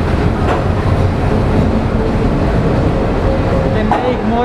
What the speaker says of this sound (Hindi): 7:47 पे हमारी ट्रेन आ चुकी है चेन्नई इग्मोर रेलवे स्टेशन पे।